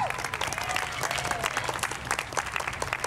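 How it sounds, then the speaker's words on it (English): An audience claps in a round of applause for a guest joining a masquerade troupe performance, a steady, fairly loud patter of many hands with faint voices mixed in. "So let's give him a round of applause here."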